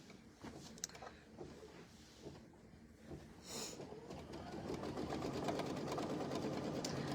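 A sewing machine runs a tack-down line along a batting-backed quilted strip for a mini tote. A few soft clicks come first, then a steady, close whirring hum grows louder and holds to the end.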